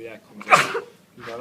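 A single sharp sneeze bursts out at close range between stretches of calm talk during a body makeup workshop.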